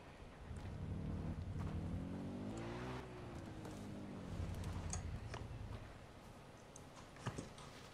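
A car driven in the video game Far Cry, its engine droning steadily with rising and falling pitch as it revs and accelerates, loud and continuous with no talk over it.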